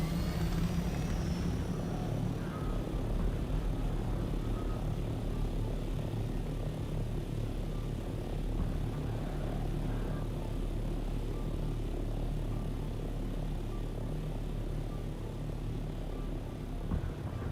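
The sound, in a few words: sandstorm in video game Dune Awakening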